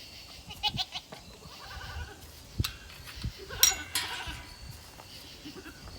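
Goats bleat several times in a pen, a few nearby calls mixed with fainter ones, with scattered knocks and shuffling around them.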